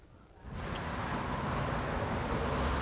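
Cars stream past on Baseline Road in Ottawa on a hot day, a steady, loud roadway roar that swells in after a quiet start and keeps going without a break.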